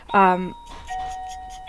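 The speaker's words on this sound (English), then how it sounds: "no, that's the doorbell" A doorbell rings indoors with a clear two-tone ding that lingers and fades over about a second. A man exclaims loudly just before it.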